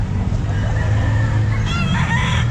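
A rooster, a full bullstag of the Hatch gray line, crows at the Calumpit pet market: one crow rises late over steady market rumble and background chatter.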